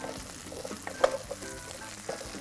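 Mushrooms sizzle gently in a pan as a faint, steady frying hiss with one brief soft clink in the middle. No one speaks.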